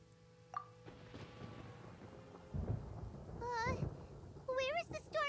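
Thunder in the Genshin Impact video game, heard as two deep rolling rumbles with a nearer, louder crack near the end, mixed with chirping, warbling game tones and faint voices.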